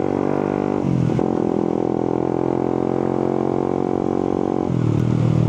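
A Suzuki GSX 150 motorcycle with an aftermarket exhaust revs loudly and close, its throttle blipped so the engine rises, holds a steady drone, then drops and climbs again near the end.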